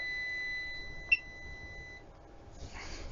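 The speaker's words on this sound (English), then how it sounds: "continuity test is at 50 ohms, because below it starts to beep" A Kaiweets ST600Y multimeter on continuity test gives a steady high electronic tone lasting about two seconds, with a sharp click partway through, then stops, leaving quiet background noise.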